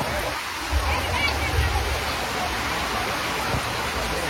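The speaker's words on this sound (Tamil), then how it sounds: "செம்ம மழை வருது." Heavy rain pours down at a Shiva temple during a festival in Chinna Salem, Tamil Nadu, a dense, steady hiss with no pauses, while someone speaks over it.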